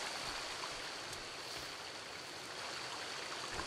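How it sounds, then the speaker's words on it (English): A waterfall in the survival video game Sons of the Forest pours in a steady, dense broadband rush of falling water that runs unbroken throughout, close and full, with no voices over it. "A nice waterfall."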